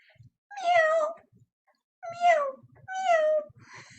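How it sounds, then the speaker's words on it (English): A cat meows three times, each call a clear, drawn-out, rising-and-falling cry with short silent gaps between, close and fairly loud. "meow, meow."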